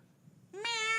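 A person imitates a cat with a single short nasal meow rising in pitch, close and fairly loud after a moment of near silence.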